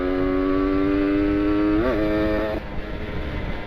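A motorcycle fitted with an R9 Carbon exhaust revs up on a busy night road in Bandung, its steady drone climbing in pitch, peaking briefly, then dropping away into traffic background.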